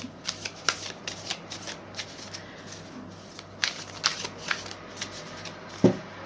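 A small Rider-Waite tarot deck is shuffled up close, giving a steady run of papery riffles and soft slaps in quick, uneven bursts, with one sharper snap near the end and no voices.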